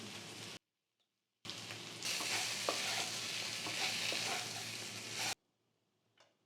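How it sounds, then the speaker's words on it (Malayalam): Chicken fries in a pan with tomatoes and green chillies, a dense, rain-like sizzle with stirring scrapes, loud and close. It cuts off abruptly twice with short silences and no voices. "ഇനി ഒന്ന് ഇളക്കി കൊടുക്കാം തക്കാളിയും പച്ചമുളകും ജസ്റ്റ് ഒന്ന് വാടിയാൽ മതി"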